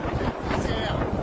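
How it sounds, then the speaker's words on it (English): Strong gale-force wind buffeting the microphone outdoors in windy coastal Australia, with trees being knocked down; a continuous loud roar and rumble lasting throughout. "Wind blowing a gale, trees knocked down, turbines at a standstill."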